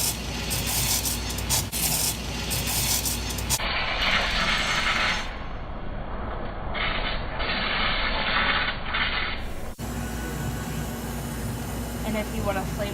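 An espresso machine steam wand steams milk, hissing steadily with a rough, tearing texture that shifts in tone partway through, alongside clattering café equipment and some voices in the background.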